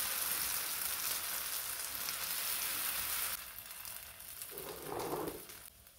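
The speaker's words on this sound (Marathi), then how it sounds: "आपण आता हे धिरड्यांचं पीठ तव्यावरती टाकून घेणार आहोत" Batter for fasting dhirde hisses on a hot tawa greased with ghee, a soft, steady crackling sizzle that drops in level partway through before a faint scraping sound near the end.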